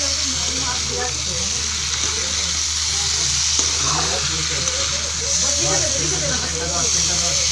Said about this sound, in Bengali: ফুলকপি আলুটা ভালো করে কষিয়ে নিচ্ছি।